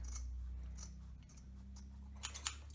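Tiny scissors snip through foam and fabric at a dart seam allowance, a few quiet, close snips near the end after soft handling noises.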